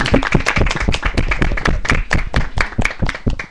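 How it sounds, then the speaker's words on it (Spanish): Close, sharp hand claps from a small group greet a school teacher, uneven and lively, loud throughout with quick overlapping strikes and no talk. "Un aplauso."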